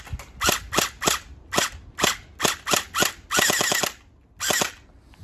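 Toy gel blaster bought from Temu firing nearby outdoors, a series of sharp cracking shots, first single pops then a rapid full-auto burst and another short volley.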